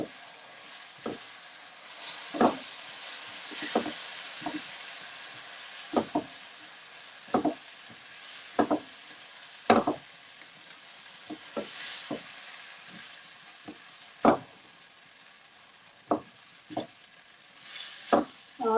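Moong dal frying slowly in a pan for khasta kachori, a quiet steady sizzle broken by frequent sharp crackles and pops, with no talking.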